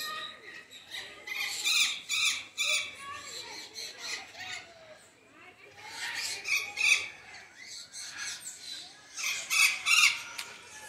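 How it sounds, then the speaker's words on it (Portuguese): Blue-headed parrots (maitacas) squawk outdoors in a city park in Guarulhos, São Paulo: repeated harsh, shrill calls come in overlapping bursts throughout, moderately close, with people occasionally talking. "Maitaca de cabeça azul."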